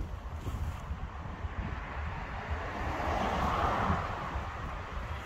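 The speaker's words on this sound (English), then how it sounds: "there's quite a lot of wind out today" Strong wind buffets an unshielded microphone outdoors, a steady roar of low rumble with gusts that swell toward the middle and then ease off again, with no speech.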